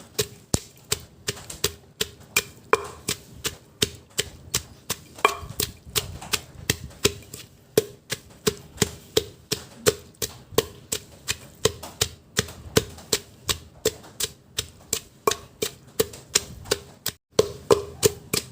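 Steady rhythmic pounding of chilies being coarsely crushed for a Thai fish stir-fry, dozens of sharp regular thuds close up with short pauses, no talking.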